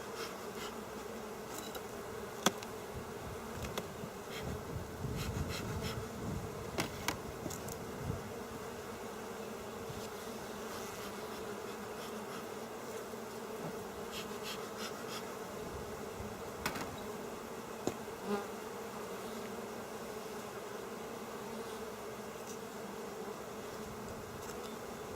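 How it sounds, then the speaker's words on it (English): Honey bees hum steadily during a hive inspection, a dense, continuous buzz close by with occasional knocks and handling clicks, no talking. "Two good full boxes of bees."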